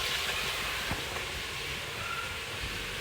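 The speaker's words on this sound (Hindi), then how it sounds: "और इधर हमारे फ्राइज माशाल्लाह से वो भी फ्राई हो रहे हैं।" Potato fries frying in a pan send up a dense, even hiss, moderately loud and constant from start to finish, with faint crackles scattered through it.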